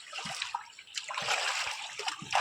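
Water splashes and sloshes in short, irregular bursts as feet move about in it, soft and close, with no talking.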